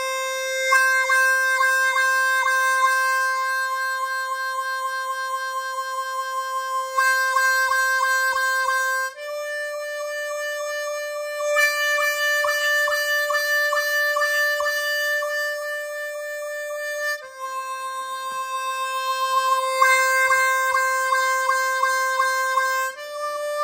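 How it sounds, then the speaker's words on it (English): A blues harmonica holds steady single notes with pulsing hand tremolo and wah-wah effects, played alone in several phrases with brief breaks between them. "now combine the tremolo and the wah-wah effect in one exercise"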